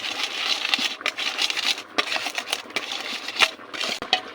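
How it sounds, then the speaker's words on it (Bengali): Roasted cumin seeds being ground with a metal ladle, giving repeated rough scraping and gritty crunching strokes in an irregular rhythm, close and fairly clear, with no voices. "যে জিরাটা ভেজে রেখেছিলাম এটা এখন হাতার সাহায্যে গুঁড়ো করে নিব আমি"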